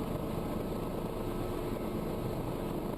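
A Cabri G2 helicopter on a smooth approach to a grass airfield, with a loud, steady engine and rotor drone that fills the whole stretch without a break.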